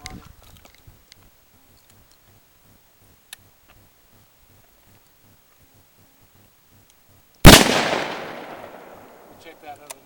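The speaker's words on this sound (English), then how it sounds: "I'm gonna shoot this tree at close range, right here" A gun fired point-blank into a tree outdoors gives a single loud, sharp crack with a long ringing decay, preceded by several seconds of faint ticking and near-silence.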